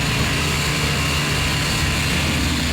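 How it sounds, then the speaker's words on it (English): A Baja Cobra 400cc air-cooled, two-wheel-drive dune buggy engine gives a loud, steady droning roar close by, running continuously with no breaks. "The Baja Cobra 400s are 400cc, air-cooled, two-wheel drive."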